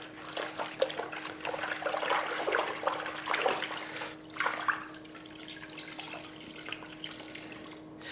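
A car-washing mitt is dunked and soaked in a bucket of water, making close sloshing, trickling and splashing sounds that rise and then settle into softer dribbling.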